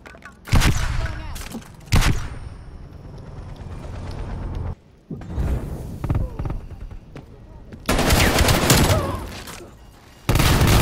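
Bursts of gunfire from the video game Call of Duty Black Ops Cold War, loud volleys broken by brief lulls, with a voice talking over parts of the shooting.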